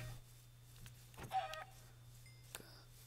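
A chicken in Minecraft gives a brief cluck and then a second faint cluck over a low steady hum, sounding quiet and close with no talking.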